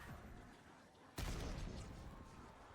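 A single loud grenade blast in Call of Duty Black Ops 6 zombies mode bursts suddenly after a quieter stretch, then fades into a rumbling tail.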